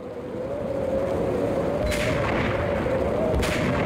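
Two sharp gunshots ring out in Max Payne, spaced a second or so apart over a steady droning background hum.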